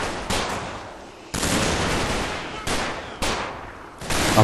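Gunfire in Combat Mission Market Garden, a World War II game, comes as a run of loud, distant-sounding bursts, each one tailing off, spread through the stretch with no voices over it.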